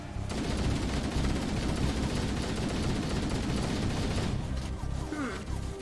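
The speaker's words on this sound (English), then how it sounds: "They're shooting at you." Enemies fire a dense, continuous barrage of gunfire in Halo Combat Evolved Anniversary, loud and sustained for several seconds before easing off near the end.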